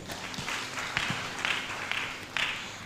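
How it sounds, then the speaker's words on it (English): Audience clapping at a law students' association launch event in Kenya, a modest scattered applause from a seated crowd, fairly faint and uneven with individual claps standing out. "Let us clap for the two speakers."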